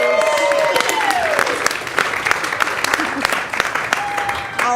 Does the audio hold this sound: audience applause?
yes